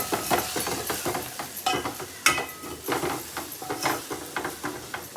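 Spiced potato bhaji with chilli powder and ghati masala being stirred and sautéed in oil, with a continuous sizzle broken by repeated scraping strokes of a spoon against the pan, close and fairly loud.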